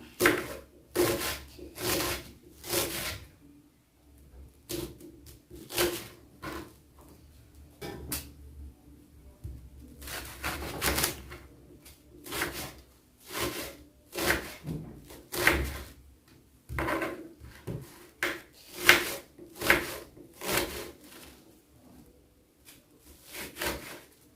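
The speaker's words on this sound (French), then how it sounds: "Donc, pour la suite, nous allons hacher nos oignons." Onions being chopped with a knife on a board, heard as a series of sharp, close knife strikes in irregular bursts with pauses between, while pig's ears are being cooked.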